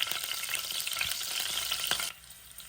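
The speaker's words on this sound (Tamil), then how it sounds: "கொச்சிக்காய் போடுறோம்" Loud crackling sizzle of chillies frying in hot oil with a few sharp pops, dropping abruptly to a quieter hiss near the end.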